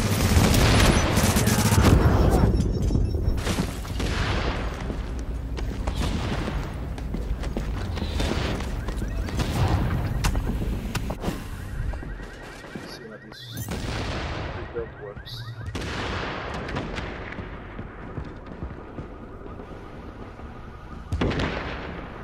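Heavy gunfire during a boss fight in the game The Division: sustained automatic bursts and loud booms pound for the first half, then thin into scattered sharp shots with gaps, with voices talking over the shooting.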